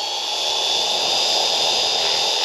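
A Trex 450 LP Dominator radio-controlled helicopter on an early test flight over a garden gives a steady, loud, high-pitched whine with broad rushing rotor noise, continuous and unbroken throughout.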